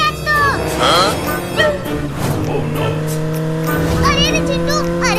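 A motorbike engine drones and revs close by while riding, its tone rising and falling under loud, excited voices talking over it, with some high whistling tones mixed in.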